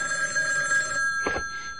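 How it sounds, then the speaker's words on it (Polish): A telephone bell rings in a short burst over a steady background hum, with a brief rattling jangle near the end of the ring. "Byłem w palcie, kiedy zadzwonił telefon."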